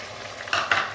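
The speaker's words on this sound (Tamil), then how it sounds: "நல்லா கலந்து விட்டுக்கிறேன்." Spoon stirring chicken and ground masala paste in a pan for a chicken kulambu, two scraping strokes over a steady soft sizzle, close and alone with no talk.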